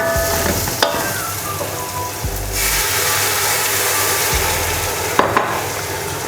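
Boiled chickpeas tip into a hot pan of spiced chana pulao and sizzle loudly and steadily up close, with a few thuds and scrapes of a spoon stirring.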